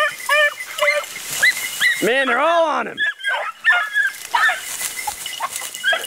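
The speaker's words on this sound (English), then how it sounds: "Man, it sounds like there's a war going on with all these beagles." A pack of beagle hounds bays and yelps on a rabbit track, with repeated high cries and a long drawn-out howl near the middle, close and loud, while someone talks briefly over them.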